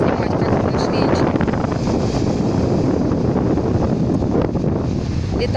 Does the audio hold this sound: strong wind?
yes